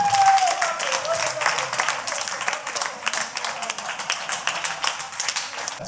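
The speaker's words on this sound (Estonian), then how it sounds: "teeme veel kord suure aplausi" A crowd at a village reunion gathering claps in a big, sustained round of applause with brisk, rhythmic hand claps that fade slightly toward the end, a few voices mixed in.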